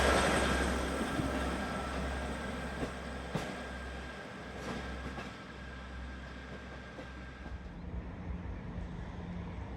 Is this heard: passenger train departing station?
yes